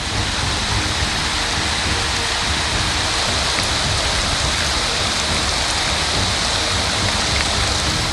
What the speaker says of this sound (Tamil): காற்றுடன் கூடிய மழை பெய்ததால் வெப்பம் தணிந்து குளிர்ச்சியான சூழல் நிலவியது